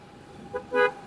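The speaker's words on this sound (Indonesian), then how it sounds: "Jadi klakson juga penting ya guys." Two short electric horn beeps from a Denso-type horn on a Polytron Fox 500 electric scooter, the second louder and longer, sound close by against quiet background noise.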